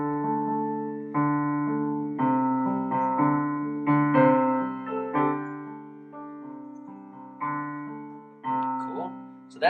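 Piano plays the verse riff of a song: repeated chord phrases in steady bars, close and clear, with no talking.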